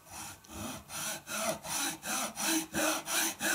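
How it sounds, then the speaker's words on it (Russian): A hacksaw for metal cuts through a wooden wobbler blank in steady back-and-forth strokes, about three per second, close and fairly loud, with no talking. "Обрезать лучше ножовкой по металлу."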